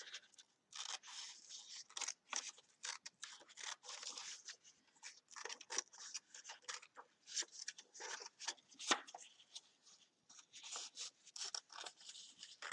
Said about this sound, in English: the shapes that you're cutting out